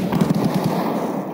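Gunfire in the video game Escape from Tarkov rings out as a quick burst of sharp, closely spaced shots. The shots are moderately loud and are heard alone, with no talk.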